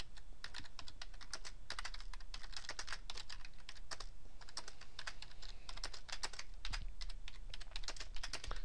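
Rapid, continuous key presses clatter on a computer keyboard during Excel shortcut use, close and steady with no pauses for about nine seconds.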